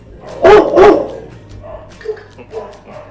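Two loud, close dog barks in quick succession, followed by softer yips and whimpering noises, from dogs inside an animal shelter.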